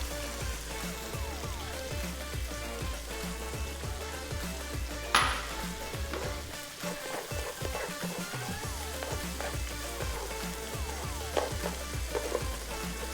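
Garlic frying in a pan for beef stroganoff, a steady close sizzle with a low hum underneath and a brief scrape or stir partway through, no talking.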